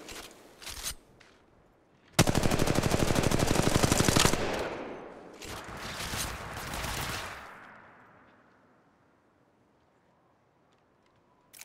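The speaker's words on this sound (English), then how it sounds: "Taking fire." Gunfire in the mobile shooter Apex Legends Mobile: a few sharp shots, then a loud sustained automatic burst, more rapid fire, and then a fading tail into near silence.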